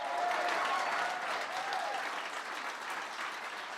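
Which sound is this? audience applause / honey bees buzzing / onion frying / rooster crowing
audience applause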